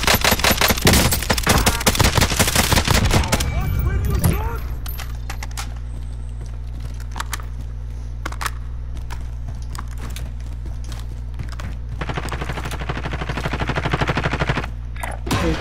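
Rapid automatic gunfire bursts from the battle royale shooter Warzone, loud and dense at the start, then scattered sharp shots over a steady background hum and game sounds.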